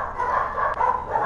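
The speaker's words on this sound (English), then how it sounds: "That's my dog going crazy." A dog barks and yips excitedly, a loud, close, nearly unbroken stretch of noise that dips once partway through.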